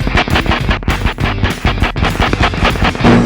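Simulated gunfire during a Top Gun dogfight flight comes as loud, dense, distorted bursts of rapid shots, close and harsh, without any talking.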